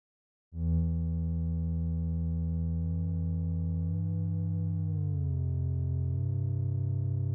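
Two held synth notes played on a velocity keyboard in the MooMu modular with MPE turned on, each bending pitch independently: a steady, sustained buzzy tone whose upper partials glide and wobble as the separate pitch bends shift.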